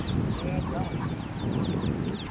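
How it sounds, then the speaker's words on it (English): Soft low clucking from a mother duck mixed with many high, thin cheeps from her swimming ducklings, close and continuous, over faint background noise. "She clucks. And they all come cheeping back."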